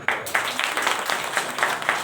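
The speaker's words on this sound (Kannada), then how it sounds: "ಚಪ್ಪಾಳೆ." Audience applause breaks out at a religious discourse, a Purana sermon at a monastery, as a steady wash of many hands clapping that pulses irregularly over two seconds, fairly close and moderately loud.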